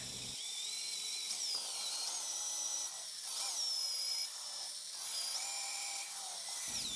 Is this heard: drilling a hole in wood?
yes